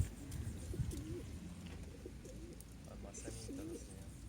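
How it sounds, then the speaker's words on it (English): Pigeons cooing softly while feeding alongside parrots on a morning near the beach at Morro Jable, Fuerteventura, several low repeated coos at moderate distance amid faint chirps and rustling background noise. "There are some pigeons around as well."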